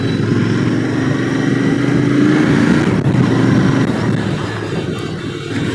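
A Royal Enfield Interceptor 650 BS6 motorcycle is ridden across a bridge, heard from the bike as a steady engine drone mixed with rushing wind, with a slight rise and fall in revs.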